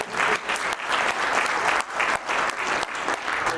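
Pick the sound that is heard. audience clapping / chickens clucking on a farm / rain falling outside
audience clapping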